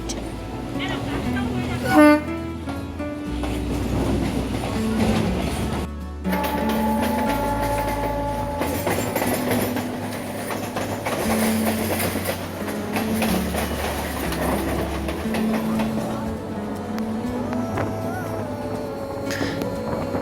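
Passenger train from Howrah to Goghat running along the rails, a steady loud rumble with a sharp horn toot near the start, continuing throughout under a voice speaking.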